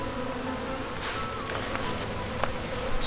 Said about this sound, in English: But there is a lot of bees